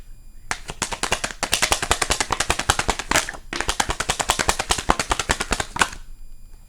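Tarot cards are riffled and shuffled close up in two long bursts of rapid crisp flicking, separated by a short pause, with no talking.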